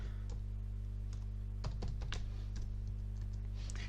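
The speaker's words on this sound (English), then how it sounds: "You can type in your text here" Fingers type text on a computer keyboard, scattered light key clicks, a few in quick clusters, over a constant low electrical hum.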